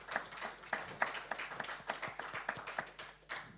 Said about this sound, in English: A big applause, ladies and gentlemen, for Petra, Iwona, and Marlies.